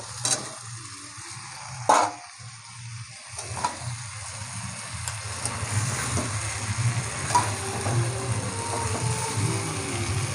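Mutton frying in a pan as new winter potatoes go in, a steady broad sizzle running throughout with a sharp clatter near the start and occasional stirring scrapes, no talking.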